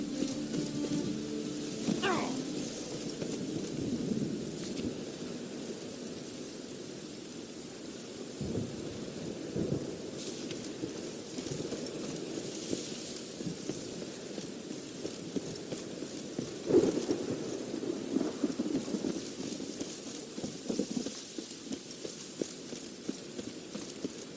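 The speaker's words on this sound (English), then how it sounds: "It's raining buckets." Steady heavy rain pours throughout in The Witcher 3: Wild Hunt, with low rolling thunder rumbling in the background and occasional faint clatter.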